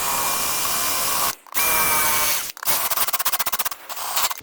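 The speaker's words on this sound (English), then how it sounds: "I'm gonna drill it upside down." A power drill bores into the fuel tank of a twin-turbo Lamborghini LP560, held upside down, with a loud steady whine that cuts out twice, then a rapid stuttering burst of short pulses near the end.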